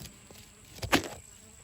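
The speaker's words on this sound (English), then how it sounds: "Look at all them bees on that." Bees buzz around figs in a garden, a faint hum rising to one brief louder close pass, with no talking.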